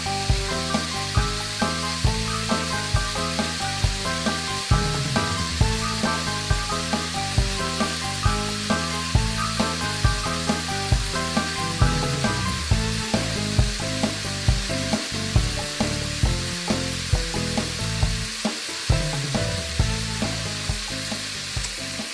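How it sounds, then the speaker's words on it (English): Split pea soup ingredients sizzle in a pot while being stirred now and then, a continuous frying hiss mixed with rhythmic tonal sound that resembles background music. "And frequently I just stir it a bit."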